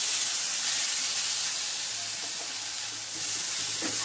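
Eggplant and potato pieces frying in a hot pan give a steady, close, continuous sizzle and hiss that stays loud and even throughout, with no voices.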